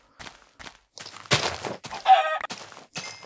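Small chickens clucking in Minecraft, a run of short close clucks and squawks that starts sparse and grows busier, with no talk over them.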